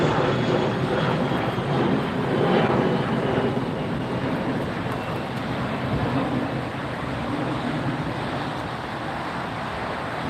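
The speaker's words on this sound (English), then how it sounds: "That's the Alaska Airlines Boeing 100 Years Strong livery. Alaska Airlines 737-900ER series." An Alaska Airlines Boeing 737-900ER in the special 100 Years Strong livery at LAX, a steady broad jet roar that holds loud and near for the whole stretch, mixed with a wash of background airport and road noise.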